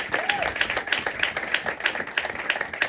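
A church congregation at a Sunday service claps steadily in rhythm, dense and continuous, with crowd voices mingled through the clapping.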